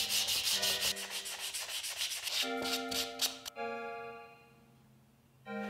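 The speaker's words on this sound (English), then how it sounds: "then I'll sand everything clean to 220 grit" Sandpaper rubbing over the back braces of a handmade acoustic guitar, worked to 220 grit, with quick rhythmic strokes close by, then a faint ringing tone as the strokes stop.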